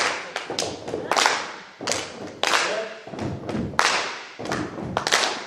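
Workshop audience beating out the We Will Rock You rhythm, two thumps and a clap repeated in a steady pattern, loud and close, with a voice speaking briefly over it.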